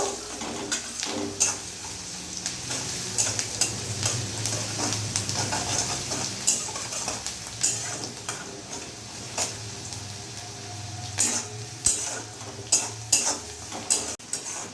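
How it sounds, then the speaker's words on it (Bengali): Onions fry over medium gas in a pan for an egg curry, giving a steady low sizzle. Frequent sharp clicks and scrapes of a utensil stirring against the pan run throughout, with no talking. "পেঁয়াজের কাঁচা গন্ধ যতক্ষণ না যাচ্ছে আমি পেঁয়াজটা একটু ভেজে নেব"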